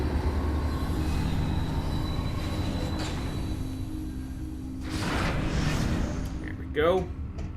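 A train arrives in Metroid Prime 3 with a steady, heavy rolling rumble. Whooshing swells and a brief metallic wheel squeal follow toward the end.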